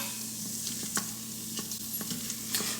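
Chili base simmers and sizzles in a pot, a steady soft frying hiss with occasional light scrapes and clicks of stirring, no voices.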